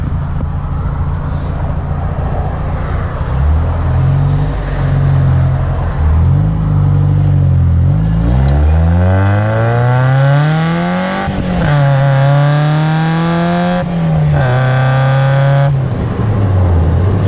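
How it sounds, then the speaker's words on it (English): A Miata-powered kart pulls hard on an open road for a quarter-mile run, its loud engine rising in pitch through several gears with brief dips at each shift, close and continuous with no talking. "We're going to try to find a stretch of road down here that's clear where we can just take off and get that 14-second quarter mile."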